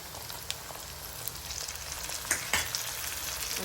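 Chopped tomatoes sizzle and fry steadily in a hot pan for semolina uttapam, with a dense, even crackle throughout and a few sharper spits and stirring clicks near the end, no voices.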